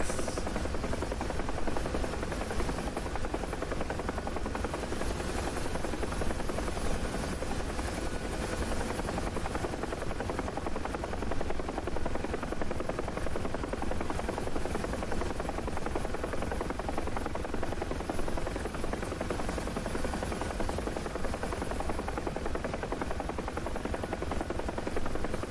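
A UH-1 Huey helicopter in the DCS flight simulator drones on with a loud, steady roar of engine and rotor that holds without a break throughout, with no talking over it.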